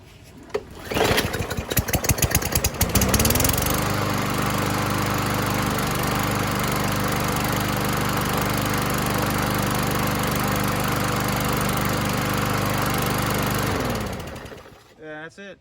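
A 2012 Murray lawnmower with a Briggs & Stratton 140cc engine, run on three-year-old gas with the air filter off, is pulled over in several sputtering attempts, catches and roars steadily up close for about ten seconds, then winds down and stops.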